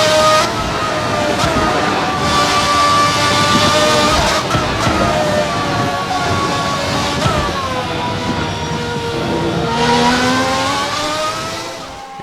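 2020 Formula Hybrid race car in a sim racing game, its engine whining loudly and continuously through rising and falling revs and gear changes, close and alone with no talk.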